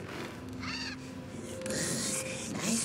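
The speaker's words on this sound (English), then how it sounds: "Nice bird, this one is very nice." Bird cawing in The Lord of the Rings: Gollum game, a few harsh rasping caws in a short series, fairly close and clear over a low ambient game background.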